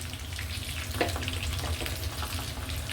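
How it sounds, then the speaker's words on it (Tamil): Sesame oil heats in a hot pan for Tamil tomato thokku, giving a soft, steady sizzle with faint crackles that runs evenly and quietly throughout, with no voices. "இதுக்குள்ளே நான் வந்து ஒரு 50 ml நல்லெண்ணெய் விடுறேன்"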